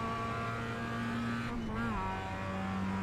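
Engine of a Mazda MX5 in the iRacing game at Lime Rock Park, humming steadily, then briefly blipping and dropping in pitch as it downshifts under braking, with tire and road noise underneath and a voice talking over it.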